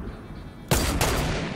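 A single loud sniper rifle shot cracks out in the Fortnite video game, then a second shot rings out, each with a sharp broadband burst and lingering tail, no speech over it.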